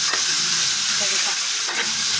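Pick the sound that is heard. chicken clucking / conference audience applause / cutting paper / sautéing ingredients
sautéing ingredients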